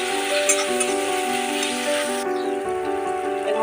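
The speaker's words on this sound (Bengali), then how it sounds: "পেঁয়াজটাকে একটু ভেজে নেব।" Onion frying in a pan makes a bright, continuous sizzle that runs the whole stretch beneath steady background music.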